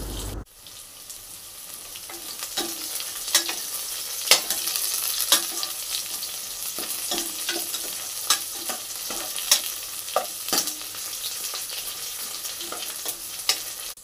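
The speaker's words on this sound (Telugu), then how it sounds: "ఇప్పుడు కరివేపాకు వేసుకొని కలుపుకోవాలి." Curry leaves crackle in hot oil with browned onions for a country chicken curry, a dense close sizzle with a sharp burst at the start and repeated ladle scrapes against the pan throughout.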